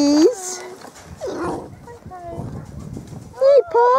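Sled dogs in Longyearbyen, above the Arctic Circle, whine and yelp in high, close calls mixed with panting and rustling, while a person speaks to them.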